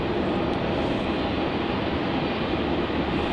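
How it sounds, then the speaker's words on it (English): Qantas flight QF380 from Sydney arriving at Melbourne Airport makes a continuous, loud broadband jet roar that holds steady throughout, with no voices. "Coming in now, we have Qantas flight QF380 from Sydney."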